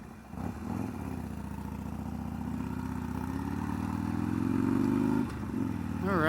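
A 2019 Harley-Davidson Roadster motorcycle rumbles close by with a deep, steady engine drone that gradually climbs in pitch and loudness, briefly dips, then swells again.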